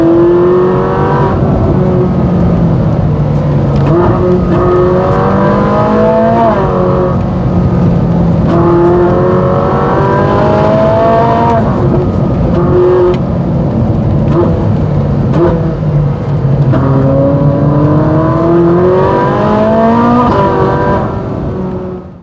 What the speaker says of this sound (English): Let's open the rear window and listen to the engine sing